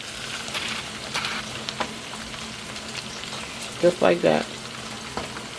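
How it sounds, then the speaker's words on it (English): Corn frying in grease in a pan crackles and sizzles steadily while it is stirred, with a few louder scrapes of the spoon. A voice speaks briefly over the sizzle. "we're going to take and stir it up so that way the grease can get all over the corn"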